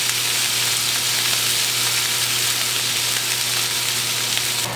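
Duck pieces fry in a hot pan, a loud, steady, dense sizzle with crackling spatter that holds evenly throughout, with a faint low hum beneath and no talking.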